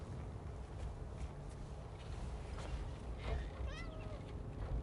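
A cat meows in the video game Death Stranding, a short rising-and-falling call near the end over a steady, dense background wash.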